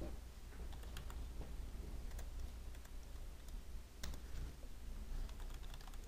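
Quiet, crisp keystrokes type a short command on a computer keyboard during a design software session, with scattered clicks over a steady low room hum.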